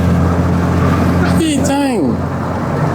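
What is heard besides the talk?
Peugeot 306 car engine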